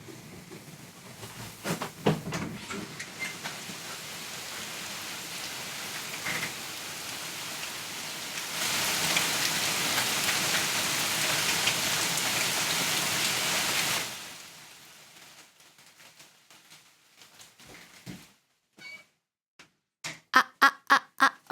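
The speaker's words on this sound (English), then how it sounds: "it's raining pretty hard" Heavy rain pours down as a dense, steady roar that swells louder midway, then breaks off into scattered drips and sharp taps.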